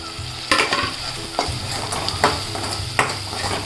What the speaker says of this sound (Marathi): मसाले थोडे परतून घेते टोमॅटो टाकते